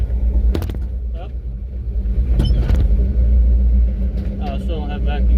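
A Ford F250 truck with a 347 stroker engine on a test drive, its low engine rumble steady and close throughout, with people talking over it.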